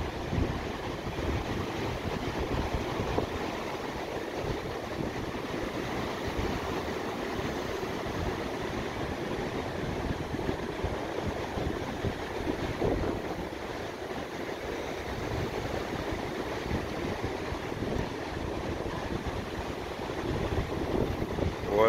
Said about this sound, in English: How rough that water is.